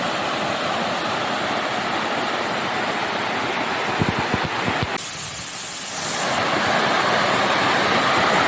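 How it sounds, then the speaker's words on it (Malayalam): Steady, loud rush of a waterfall at a bamboo resort in Munnar, a dense continuous roar filling the whole clip, with a few brief knocks near the middle and no talking. "ഇതേ ഞാൻ വെള്ളച്ചാട്ടത്തിൻ്റെ അടുത്തെത്തിട്ടോ."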